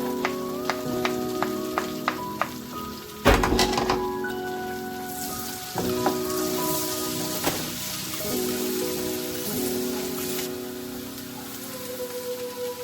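Garlic sizzles and fries in a pan for a Filipino tilapia sarciado dish, a continuous crackling hiss with sharp utensil taps and clinks over it.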